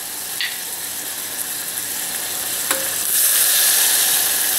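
Cider vinegar hisses sharply as it is poured into a hot pan with maple Dijon pork chops, a steady close sizzle that rises and brightens toward the end.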